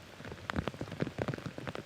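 Steady rain patters on an outdoor disc golf course during a final-round lead card, a dense close-up wash of drops hitting surfaces in irregular bursts, with no voices.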